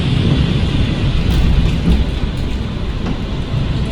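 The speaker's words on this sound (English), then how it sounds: "So I wanted to give you a quick glimpse at Storm Floris." Storm Floris blows hard across southeastern Sutherland in northern Scotland, a loud continuous low roar of wind buffeting close by, with faint gusty rises and no voices.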